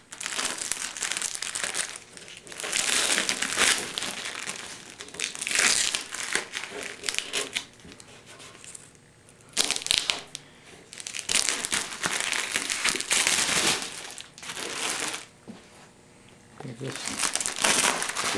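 Layers of tape are peeled off the body of a custom Studebaker coupe, giving repeated loud crinkling and tearing bursts with brief pauses between, close by and mixed with someone talking.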